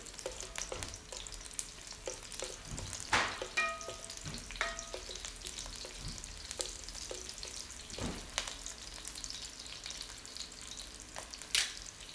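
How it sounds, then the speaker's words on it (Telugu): Ridge gourd fibre and garlic fry in a pan on a medium flame for a pickle, giving a soft, steady sizzle broken by a few sharper stirring clicks and scrapes, with no one talking. "మీడియం ఫ్లేమ్ మీద ఫ్రై చేసుకోండి"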